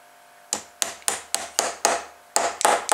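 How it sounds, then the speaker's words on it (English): A hammer strikes a copper-coated steel rod being driven tightly onto a propeller shaft for a small electric plastic-bottle boat, about nine sharp, close metallic blows in an uneven rhythm, with no talking. "I want to be able to hammer this in with a hammer"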